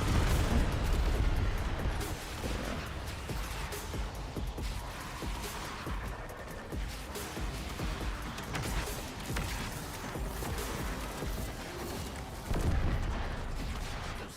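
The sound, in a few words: torpedo launch explosions in Warframe video game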